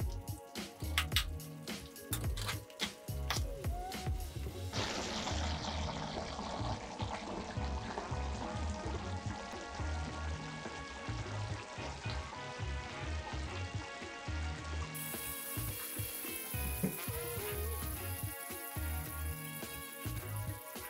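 Sardines with rice noodles simmer in a pot, giving a steady wet bubbling and pouring sound with faint drips, continuous and close throughout, with no voices.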